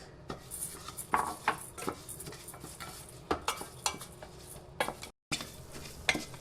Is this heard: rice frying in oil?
yes